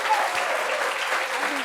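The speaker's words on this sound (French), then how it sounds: "Applaudissements." A studio audience on a French evening talk show applauds a co-host, a short, even burst of clapping with a voice faintly over it.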